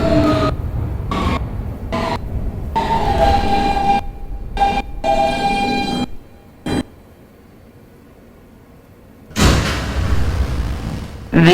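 An R160B Siemens W subway train runs along the D line toward Bay Parkway, with a steady rumble broken by a quieter stretch and then a loud surge. Announcements play over the noise.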